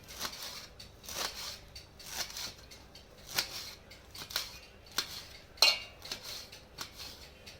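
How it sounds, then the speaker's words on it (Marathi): A knife chops cabbage in a home kitchen, giving a steady series of sharp, close taps on a board, fairly quiet with no talking. "हे चाकूने हे असं चिरून घ्यायचे आहे"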